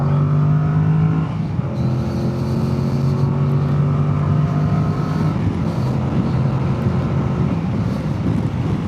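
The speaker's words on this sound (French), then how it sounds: "Allez, petite accélération." A 2025 Yamaha Tracer 7 GT motorcycle speeds up on the road. Its engine note climbs steadily in pitch for several seconds, close and loud, with constant wind rush underneath.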